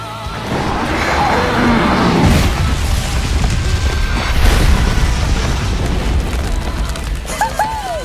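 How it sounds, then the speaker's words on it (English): Charizard's Blast Burn attack erupts in a big, roaring explosion that swells and rumbles for several seconds in a Pokémon versus Digimon battle, loud and dominant, with a short whooshing tail near the end. "Charizard! Blast Burn!"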